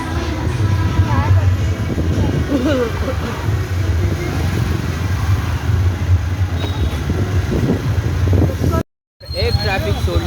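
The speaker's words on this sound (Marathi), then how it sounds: "एक ट्रॅफिक सोडली आणि आता दुसरी ट्रॅफिक लागलेली आहे अशा प्रकारे" Steady road traffic rumbles continuously near the Tembhi Naka fair in Thane, a dense low engine drone with murmuring voices underneath, briefly cut by a short gap near the end.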